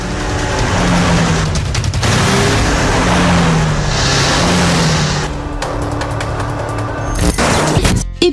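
Hyundai Genesis Coupe in a TV ad, with loud engine roar and revving from close by, sharp bursts and quick cuts toward the end, no voices.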